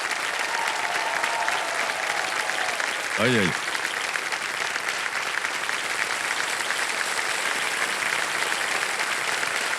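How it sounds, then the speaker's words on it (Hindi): A studio audience at a televised quiz show claps loudly and continuously for a contestant, with a host speaking over the steady applause. "ताली बज जाए इनके लिए।"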